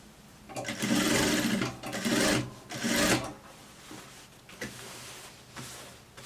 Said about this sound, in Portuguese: Venho bem na pontinha e costuro bem na beirinha